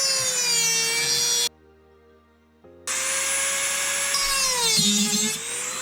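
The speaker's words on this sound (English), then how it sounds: "So I'm going to go get my Dremel tool and get access to that music" A Dremel rotary tool whines loudly as it cuts a hole into the base of a snow globe to reach the music box, with a steady high-pitched grind, a short pause mid-way, then more cutting with shifting pitch.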